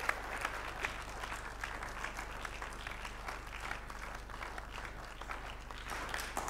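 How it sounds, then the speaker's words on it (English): An audience applauds the speakers at an evening panel talk on biocontrol in arable farming: dense, steady clapping from many hands that holds at an even level throughout, with no speech. "Please give a big round of applause to us."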